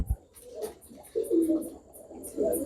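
Aged Teddy pigeons cooing close by in a loft, several soft, throaty coos in short phrases with brief pauses between them.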